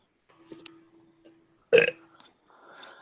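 A single short, loud burp stands out midway through an otherwise quiet stretch with faint scattered background noise.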